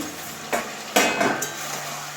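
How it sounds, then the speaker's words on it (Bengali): A metal lid lifts off a pot of hilsa fish head cooking with Malabar spinach, giving two or three close clanks and scrapes over a soft, steady simmer. "এবারে ঢাকনাটা খুলছি"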